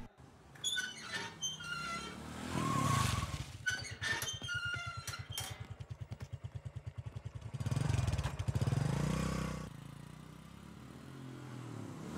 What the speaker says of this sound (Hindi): ए गाड़ी चला।